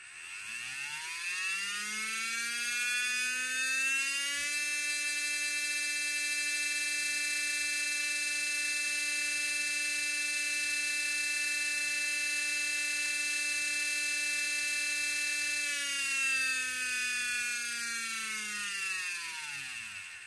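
Brushless sensored motor with the pinion removed spins up with no load, holding a steady high electric whine for about ten seconds before winding down, loud and alone.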